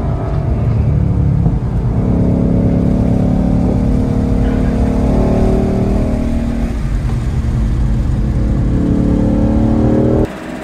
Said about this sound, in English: the track day with the Mustang Shelby GT500